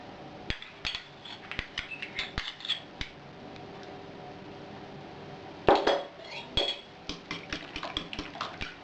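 Quick bursts of clattering utensil strokes against a bowl as an egg mixture with salt and mayonnaise is beaten, with short pauses between bursts and a faint hum underneath.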